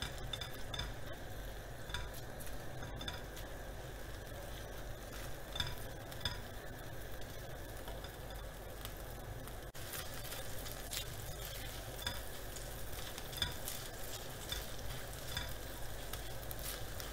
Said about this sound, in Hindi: इसमें डालेंगे कुटा हुआ अदरक। इसे थोड़ी सी देर हम भूनेंगे।